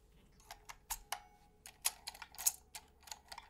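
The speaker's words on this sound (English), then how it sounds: "Why do these stabs sound so bad?" Keystrokes on a Taeha Types keyboard with plate-mounted Cherry-style stabilizers, a quiet run of irregular clacks and rattly bottom-outs with a metallic ping ringing after some presses, close and alone.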